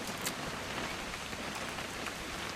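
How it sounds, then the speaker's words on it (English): Rain in the video game What Remains of Edith Finch, a dense steady patter of drops falling on surfaces, soft and constant throughout with no voices. "It's gonna rain the whole weekend,"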